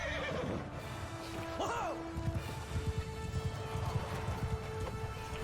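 A horse gallops across a Mount & Blade Bannerlord battlefield with a rapid, loud rhythm of hoofbeats after an earlier whinny, set against a steady battle din.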